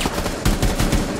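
Gunfire aimed at TVs in the tactical shooter game Rainbow Six Siege, a rapid burst of automatic shots with sharp repeated cracks, loud and close throughout.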